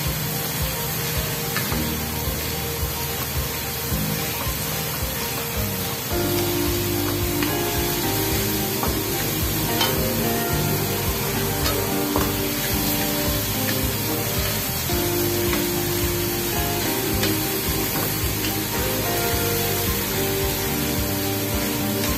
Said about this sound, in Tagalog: Pag nailabas na ng kamatis yung kanyang juice, ibubuhos na natin yung ating tuna.